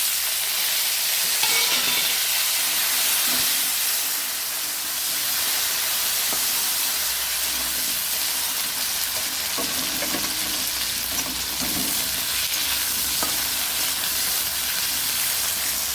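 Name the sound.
potatoes and onion frying while being stirred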